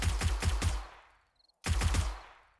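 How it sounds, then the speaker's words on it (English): Gunfire from a gun in the video game 7 Days to Die: a burst of three quick close shots, a short silence, then a second burst of several more shots. "That gun's not very loud."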